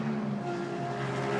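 A GT race car drives along the Virginia circuit through the climbing S's during a GT World Challenge America race, its engine a steady loud drone held throughout with no talk.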